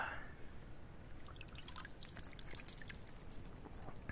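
Fresh water drips and trickles in a mangrove survival setting, a steady faint patter of small drops close by with no voices.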